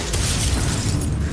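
A loud, sustained fiery blast from the Confringo spell in Hogwarts Legacy, a dense booming burst that fills the whole moment.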